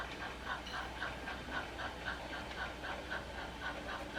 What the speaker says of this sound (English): 9449 is the steam locomotive